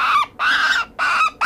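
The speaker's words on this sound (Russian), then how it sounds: "Дятел плакает." A woodpecker kept in a bird rescue cries in distress, giving three harsh, loud squawking calls in quick succession, close by with brief gaps between them.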